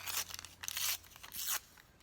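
Coffee-dyed parchment paper is handled, giving three loud crinkling, crunching bursts close up with quieter rustles between them.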